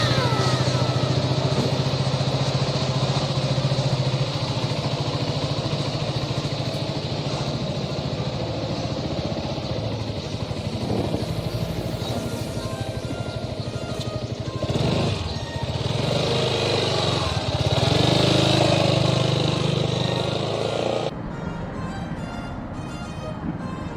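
A Yamaha XMAX 292cc scooter engine runs steadily with a low, even drone throughout, holding a fairly constant level; a voice speaks over it at times.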